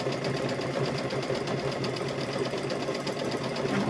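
A sewing machine runs continuously, stitching a fabric welding hat with a steady, fast mechanical rattle that stays loud and even throughout, with no talking.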